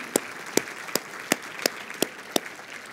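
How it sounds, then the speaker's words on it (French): Slow, sparse handclaps from a small church congregation, about eight distinct claps in an even rhythm, fairly close and isolated, with no talking. "Une bonne main d'applaudissement pour Portail Abitibi."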